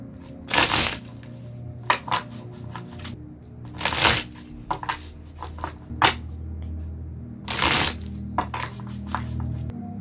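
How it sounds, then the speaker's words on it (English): Tarot cards are shuffled in several quick bursts of riffling and slapping, with small taps and rustles between them and no voices. "Let's shuffle real quick."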